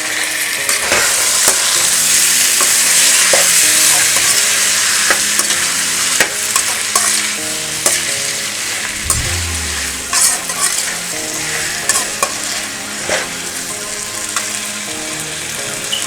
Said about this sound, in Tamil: இப்போது இதை வந்து இதில் சேர்த்துக்கலாம்